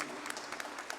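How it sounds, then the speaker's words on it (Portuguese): A church congregation applauds during Mass at a sanctuary, a dense, steady wash of many hands clapping together, fairly close and continuous. "Vamos aplaudir a palavra de Deus."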